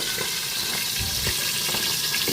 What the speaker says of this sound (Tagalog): Magpiprito na po tayo ng ating isdang pampano. Lagyan nyo ng bawang.